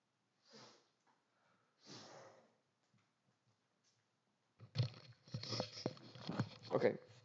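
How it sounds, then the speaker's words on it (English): A person blows their nose up close, with a couple of short sniffing snorts first and then a longer, louder, rough blowing burst. "I got to blow my nose."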